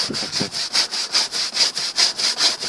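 Brisk back-and-forth scrubbing of a greasy surface during a Vireo washing demonstration, about a dozen even rasping strokes in a steady rhythm, close and loud with no talk.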